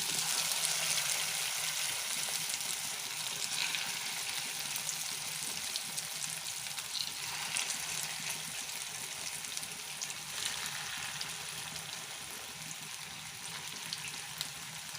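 Idli batter punugulu fritters frying in hot oil, a steady, even crackling hiss that stays close and continuous throughout with no talking.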